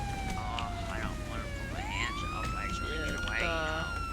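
A police siren in a video game roleplay wails in long rising and falling sweeps, with overlapping siren tones, steady and fairly close.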